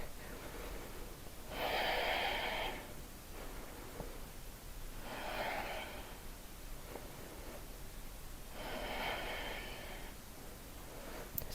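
Slow, deliberate breaths drawn through the nose by someone holding a standing big-toe yoga pose, with three long, soft exhalations spaced a few seconds apart, close and alone against a quiet room.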